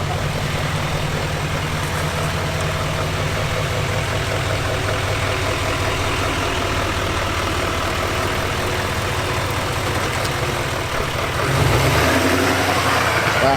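The supercharged engine of a Chevy Tahoe truck fitted with a Derringer module runs at a steady, low rumbling idle close by, its tone shifting slightly near the end.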